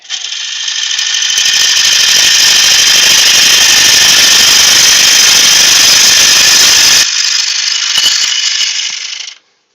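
A chisel cuts into a large pitch pine bowl spinning on a wood lathe. The roar is loud, steady and harsh, drops off sharply near the seven-second mark, carries on more quietly and then cuts out.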